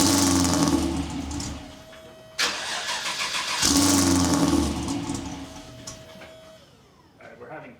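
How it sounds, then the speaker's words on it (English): An LT V8-swapped Pontiac Trans Am engine with a faulty tune cranks and catches twice in a row, each start rising into a loud revving idle before settling, with a faint steady whine underneath. "the startup sounded a little more in line with what my Camaro sounds like"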